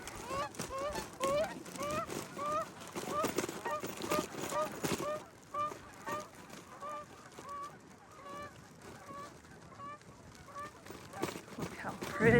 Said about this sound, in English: Oh, there's some ducks.